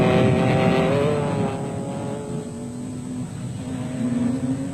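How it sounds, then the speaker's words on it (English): Off-road race cars in the special vehicle category at a South African off-road race, a loud steady engine roar with a rising whine as the vehicles pass nearby, with no talking. "The battle continued to rage in the special vehicle category with Class A championship leaders Gerald Man"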